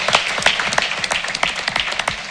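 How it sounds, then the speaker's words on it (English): Audience applause fills a council meeting hall, a dense patter of many hands clapping steadily throughout, moderately loud with no voices over it. "So a round of applause to those people who have invested in that part of town."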